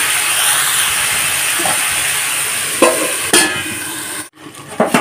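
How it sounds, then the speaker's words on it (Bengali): Vegetables being stirred in a pan over a low gas flame while cooking a fish-head chachori, giving a steady close hiss with a few brief scraping stirs toward the end. "সবজিগুলোকে হালকা নাড়াচাড়া করে গ্যাসটাকে লো ফ্লেমে রেখে থালা দিয়ে চাপা দিয়ে দেব"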